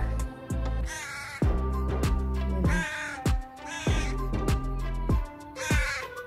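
Several crows caw repeatedly on a farm in Israel, harsh, loud calls in a rough, irregular rhythm, some overlapping, close by with little else around.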